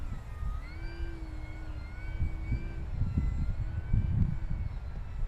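An FMS Edge 540 RC aerobatic plane flies past outdoors, its electric motor whining and sliding up and down in pitch at middling distance over a rumble of wind.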